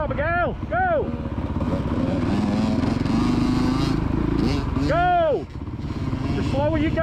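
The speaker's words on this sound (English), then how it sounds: "That's it, rev it up now, Abigail." Motocross motorcycle ridden by a child on a track, engine buzzing steadily and loud with several sharp rising-and-falling revs, while a coach shouts encouragement over it.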